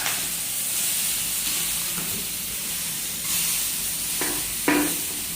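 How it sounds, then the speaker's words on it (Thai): Seasonings stir-fry in a hot pan, giving off a steady, close sizzle and hiss, with a few sharp scrapes and clatters of the spatula near the end. "แล้วผัดให้กลิ่นหอมนะครับ"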